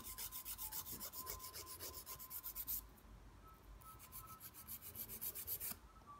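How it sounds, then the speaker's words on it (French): A nail file works an acrylic gel fingernail in quick, rhythmic back-and-forth strokes. The rasping is close and quiet, pauses briefly, then resumes. "Donc, on n'hésite pas à limer."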